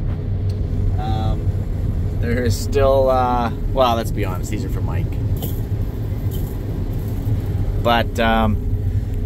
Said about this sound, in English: So I'm actually running Ashton's combine right now